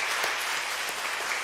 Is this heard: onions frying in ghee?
no